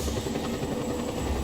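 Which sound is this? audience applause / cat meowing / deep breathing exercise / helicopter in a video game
helicopter in a video game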